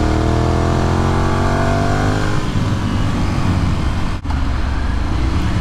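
A motorcycle ridden through turns in Lakewood's Applewood residential neighborhood, engine loud and close with falling pitch as it slows, then a steady throttle roar with wind noise and a brief dip.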